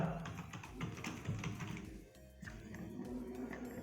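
Steady, close tapping on a computer keyboard, keystrokes in a dense irregular stream with a brief lull midway, while a building plan is labelled; no one speaks.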